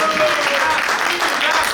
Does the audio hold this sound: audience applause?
yes